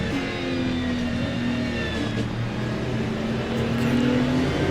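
A Ferrari 296 LMGT3 race car at Fuji Speedway in the Le Mans Ultimate racing game, its engine droning at a steady high pitch with slowly rising and falling revs, continuous and fairly loud with no talking.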